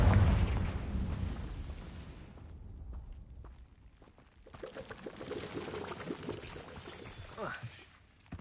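A Confringo blasting spell goes off in Hogwarts Legacy with a heavy boom at the start that decays away. Further crackling blasts and game effects follow, with speech nearby.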